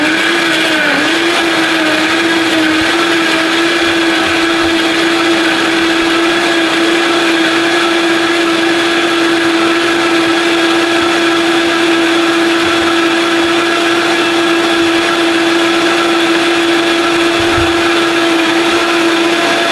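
A blender runs continuously at high speed, pulverising raw produce for juice, with a loud, steady motor whine that holds throughout and no speech.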